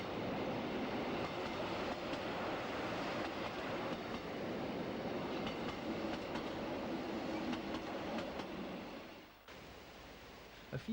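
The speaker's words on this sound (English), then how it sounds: "This work train is hauled by one of 5 electric rail cars built in 1942" A work train hauled by a 1942 electric rail car on a Swiss mountain railway. A steady rolling rumble with faint wheel clatter continues at moderate distance, then drops suddenly near the end to a quieter hum.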